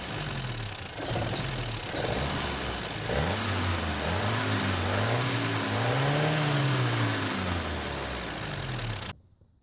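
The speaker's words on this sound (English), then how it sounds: "I have to control the throttle with my hand and keep the RPMs up while pouring in the chem tool or the engine will stall" A car engine held at raised revs by hand on the throttle while a chemical treatment is poured in, its steady mid-pitched drone swelling and dipping in slow waves, loud and close, then cutting off abruptly at the end.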